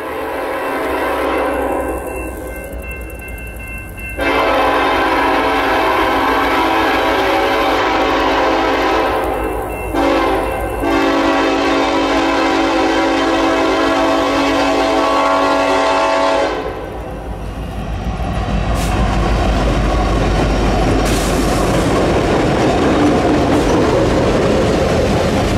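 A former LNW 55 GP11 diesel locomotive, now R.J. Corman owned, blows long sustained horn blasts as it rumbles past with rolling wheel clatter, loud and near, the engine roar swelling after the horn stops.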